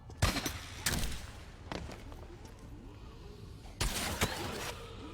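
Gunfire from a gun in the video game Meet Your Maker: several sharp shots, a pair near the start, a couple more spaced apart, then a louder burst near the end, moderately close.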